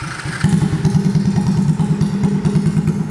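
A modified Honda Astrea Grand motorcycle with a loud free-flow exhaust revs up and then holds a fast, rough, throbbing idle, close to the microphone and without any talk.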